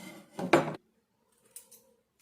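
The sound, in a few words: scissors cutting a date palm leaf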